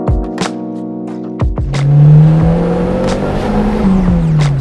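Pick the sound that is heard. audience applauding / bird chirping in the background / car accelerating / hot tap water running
car accelerating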